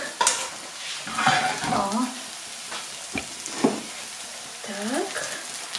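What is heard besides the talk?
onion frying in a pan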